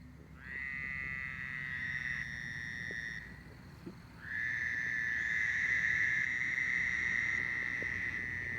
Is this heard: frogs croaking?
yes